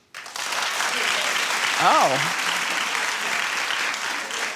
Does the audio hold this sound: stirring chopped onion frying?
no